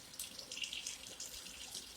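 A kitchen tap runs steadily in a house with long plumbing, a soft continuous hiss of flowing water splashing into a sink, fairly quiet and uninterrupted.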